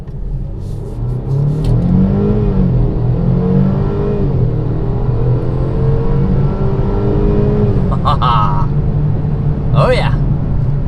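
A 2021 Mercedes-Benz GLC300 accelerates hard, its engine note rising in a steady surge of rumble and whir from inside the cabin, with a few brief clicks near the end.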